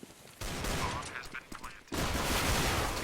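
Pistol fire in a CS:GO competitive match: a rapid burst of sharp shots that starts abruptly and cuts off, then a second loud burst, with game ambience underneath and no talking over it.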